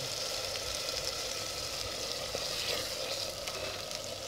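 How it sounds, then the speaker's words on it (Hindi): Masala fries in a pan for an egg and potato dish, giving a steady, close, crackling sizzle with light stirring and no talking. "मसाला मैंने बहुत अच्छी तरह भून लिया है ये देखें"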